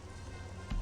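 Rain falling in the video game Star Wars: Jedi Academy, a steady close hiss of drops on surfaces with a brief louder burst near the end.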